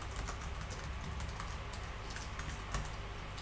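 Quick, faint key taps on a computer keyboard while commands are typed into a Linux terminal, a continuous run of clicks over a hissy background with no talk.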